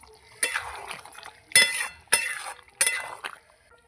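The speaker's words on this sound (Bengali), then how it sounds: "দেখুন কত সুন্দর ফুটছে আস্তে আস্তে।" Mutton liver and potatoes simmer in a pot as the lid is lifted, giving soft liquid bubbling with four distinct bursts of clinking and sloshing at close range.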